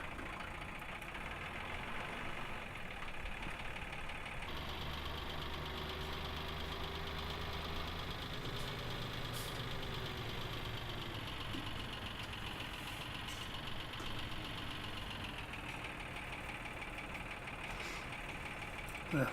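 A flatbed truck engine in the Farming Simulator 17 video game on The Valley The Old Farm map, a steady mid-pitched diesel drone with a changing gear tone, running continuously for about twenty seconds with no talk.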